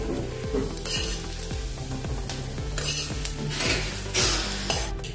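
Onions frying in a pan for a veg biryani, with a steady sizzle under repeated rhythmic scrapes and clinks of a spoon stirring against the metal.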